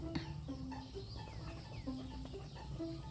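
A chick caught in a net gives a run of short, repeated peeping clucks at an irregular pace. The calls are fairly faint but clear against a low, steady background.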